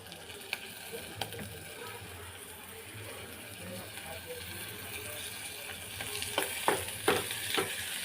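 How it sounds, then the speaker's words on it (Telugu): Ginger garlic paste fries in a pan for a prawn curry, with a soft steady sizzle throughout and louder clinks and scrapes of stirring toward the end. "అల్లం వెల్లుల్లి పేస్టు పచ్చివాసన పోయేదాకా వీటిని లైట్గా ఫ్రై చేసుకుందాం"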